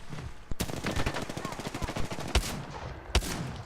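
Sniper rifle fire in the Apex Legends video game: a few sharp, loud shots spaced well apart, with rapid clicking and other game action continuing between them.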